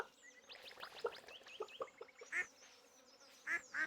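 Ducks in the farming game Stardew Valley quack and honk in short, bright, repeated calls, with a cluster of chirpy quacks followed by a few louder honks near the end.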